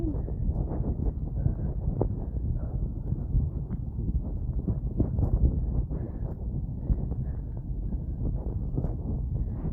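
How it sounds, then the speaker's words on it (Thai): Cold wind buffeting a microphone outdoors, a steady low rumbling roar with gusty thumps throughout, close and continuous with no talk. "ลมเย็น"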